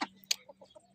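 A small village hen gives a quick burst of clucks, a few short close calls packed into about a second over quiet background.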